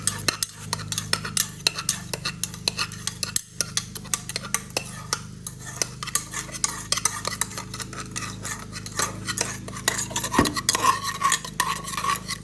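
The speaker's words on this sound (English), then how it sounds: "you can get your spoon, start mixing." A spoon stirs a bubble tea mixture in a container, scraping and clinking steadily with frequent close metallic taps against the sides for the whole stretch, with no talking.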